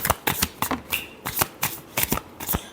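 Tarot cards being shuffled up close, giving a brisk run of crisp riffling slaps in a steady rhythm, loud and with no voices.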